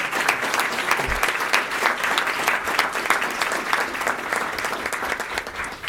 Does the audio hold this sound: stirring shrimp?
no